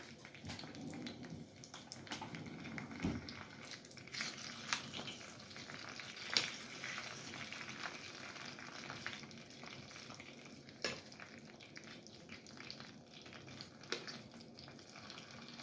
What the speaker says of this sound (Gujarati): તો એના માટે મરચાં ફ્રાય કરી દઈશું